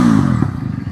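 A 350cc cruiser motorcycle cranks on its electric starter and catches, a brief loud mechanical churn settling into a low, rumbling engine idle, close by.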